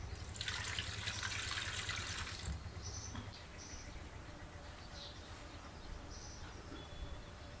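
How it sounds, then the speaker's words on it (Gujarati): A little water poured into muthiya dough outdoors in a village setting, a steady soft trickle that is strongest early and then gives way to a quieter wash with faint bird calls. "હવે આમાં નાખી દઈએ આપણે પાણી થોડું."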